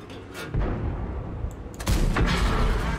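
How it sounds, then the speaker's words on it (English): A tank cannon firing in the World of Tanks video game: two heavy, booming shots, the first around half a second in and a louder second near 1.9 seconds, each followed by a rumbling tail. "Where did that shot go?"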